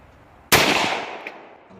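A single loud gunshot cracks out close by, its blast echoing and slowly dying away, followed by a faint small clink.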